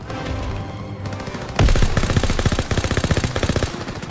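Machine gun fire in the Call of Duty WWII video game, rapid continuous bursts of close automatic gunfire that start abruptly and keep a fast rhythm over a noisy battlefield background.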